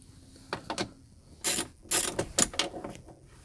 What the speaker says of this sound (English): To get the screws out, you're going to be using a small 1/4-inch ratchet.